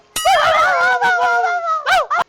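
A man imitates a puppy with his voice, giving a long whining howl followed by two short yips, loud and close in a comedy sketch.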